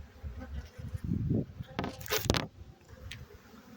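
Honey bees buzz in a steady, close hum over a hive frame during a May inspection of a Demaree split, with occasional handling knocks and rustles from the frame.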